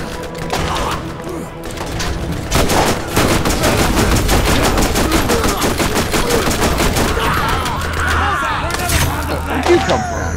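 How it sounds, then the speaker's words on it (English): Rapid, steady gunfire from a shotgun revolver in Borderlands, loud and close, with repeated shots running through most of the stretch and someone talking at times. "Say hello to my shotgun revolver."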